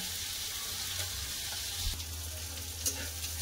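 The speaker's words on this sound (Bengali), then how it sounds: "আলু ডাঁটাটা ভালো করে ভেজে নিয়েছে" Potatoes and vegetable stems fry in a pan with a continuous, even sizzle, with a few faint bumps and clinks, moderately quiet and close.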